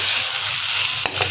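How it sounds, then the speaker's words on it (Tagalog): Tomato, garlic, onion and fish sauté in a pan with a steady, close sizzle and fry, broken near the end by a sharp clack of a utensil against the pan. "yung ating ginigisang tomato, garlic, and onion"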